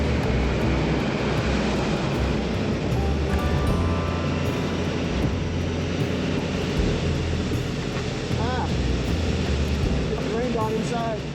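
An aircraft flies high over a canyon near a waterfall in the Amazon, giving a loud, steady engine drone that fills the whole stretch, with faint voices underneath.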